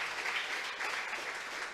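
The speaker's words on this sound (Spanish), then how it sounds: "¿Cuántos le aplauden a nuestro Señor Jesucristo?" Church congregation applauding during a Spanish-language service, a steady wash of clapping that holds at an even level from start to finish, with no voices over it.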